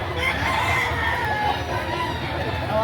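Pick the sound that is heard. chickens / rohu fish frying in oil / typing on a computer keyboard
chickens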